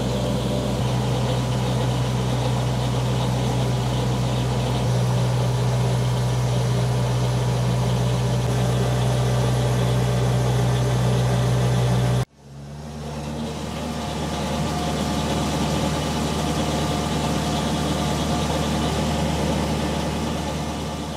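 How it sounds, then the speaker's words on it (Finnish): A homemade DIY front loader's engine runs steadily with a loud low hum and whine, then after an abrupt break resumes with a rising rev as the machine drives on, close and without talk. "Ja täältä voidaan sitten vähän kierroksia lisätä ja matka lähtee taittumaan vähän nopeammin."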